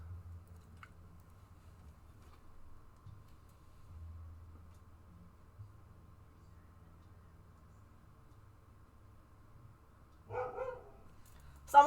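A small dog barks in two short, sharp bursts near the end, after a long stretch of quiet room hum.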